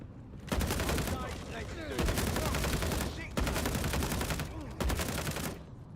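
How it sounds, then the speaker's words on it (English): Rapid automatic gunfire from a video game rattles in four sustained bursts with short gaps between them, loud and close. "I am shooting right past this barrel."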